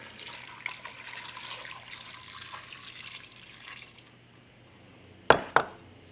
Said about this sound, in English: just add them to your Instant Pot and pour in about 4 cups of water